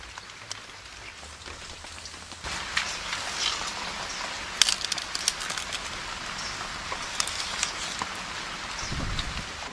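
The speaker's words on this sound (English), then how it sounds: "even though it's raining." Steady rain patters down in a jungle, a dense hiss with scattered louder drops striking leaves and surfaces, growing heavier after the first couple of seconds, with no voices.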